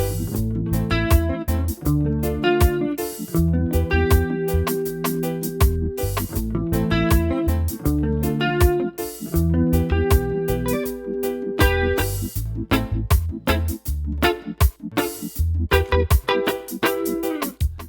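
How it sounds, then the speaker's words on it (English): Electric guitar played with a chorus effect, a series of strummed chords and picked notes in a steady rhythm, clear and upfront with no talking. "so that's how the chorus sounds."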